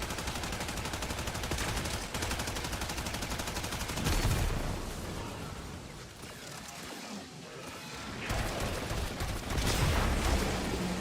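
Gunfire in the video game Destiny as a bar at a reactor facility is shot. Rapid, continuous bursts fill most of the stretch, with a brief lull in the middle before loud firing resumes.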